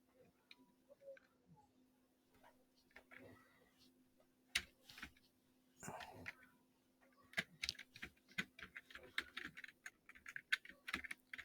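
Keyword being typed on a computer keyboard, a run of quick clicking keystrokes in uneven bursts, getting busier toward the end, over a faint steady hum and some quiet talk.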